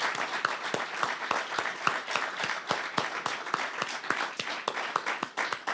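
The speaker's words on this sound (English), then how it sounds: "Well, a big applause indeed." An audience at a literature festival opening ceremony in Odesa applauds, scattered individual claps blending into moderately full, steady clapping that carries on throughout without speech.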